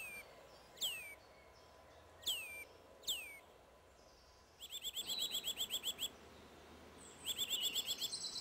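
Nuthatch calling: a few sharp, downward-sliding whistled notes, then fast rapid trills of repeated piping notes, clear and fairly close against a quiet background.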